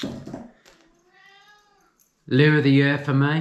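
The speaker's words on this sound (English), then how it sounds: "that's the cat, if you can hear it" A cat meows with a thin, drawn-out harmonic cry lasting about a second, faint and fairly close, followed by someone talking loudly.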